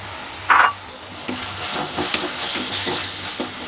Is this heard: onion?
yes